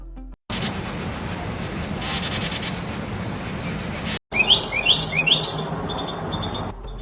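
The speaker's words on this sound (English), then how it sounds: "Its call is a series of short, rhythmic whistles and mellow liquid notes" Song wren calling in jungle, a run of short rhythmic whistles and mellow liquid notes, fairly clear and close over a hissy background, following an earlier stretch of softer rustling noise.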